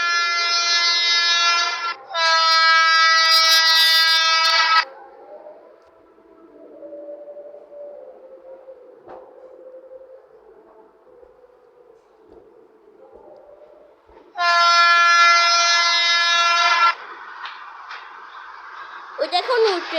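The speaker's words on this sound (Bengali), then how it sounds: "ওই দেখুন ওই ট্রেনকে, ওই লোকোমোটিভ।" A locomotive-hauled local train passing close by, heard from aboard another train: two loud, sustained horn blasts, a quieter rumbling stretch, then a third long blast with clanking and squealing rail noise.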